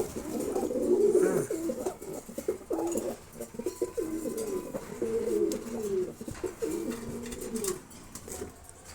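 Beauty Homer pigeons in a loft coo repeatedly in soft, throaty, rolling phrases close by, with brief pauses between bursts and faint rustling in the background.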